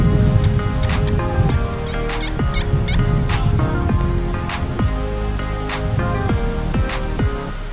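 A wild turkey hen calls loudly and close, repeated yelping bursts in an uneven rhythm over constant background noise.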